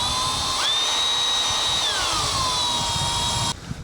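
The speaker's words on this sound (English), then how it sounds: "I'm just gonna keep stepping up the drill bit size until I get to a 3/8 hole for that" A 12-volt drill with a step bit bores into steel on a 2000 Tundra, a close, whining motor whose pitch rises sharply, holds, then falls as the bit bites, stopping near the end.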